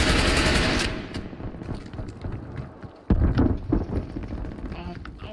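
Rapid automatic gunfire in the shooter game Black Ops Cold War, a loud burst at the start and then more bursts of shots after a brief lull, with a voice talking over them.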